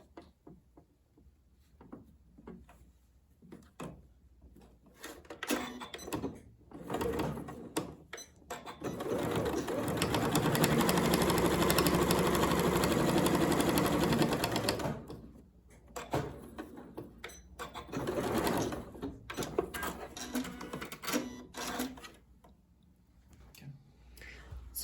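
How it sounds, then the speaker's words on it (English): A sewing machine stitches strips of pre-printed panel fabric for a pin cushion, running in short bursts with a sustained, steady whir in the middle as it sews and backstitches, fairly close and moderately loud. "I'm going to backstitch here as well. I'm going to do the other side."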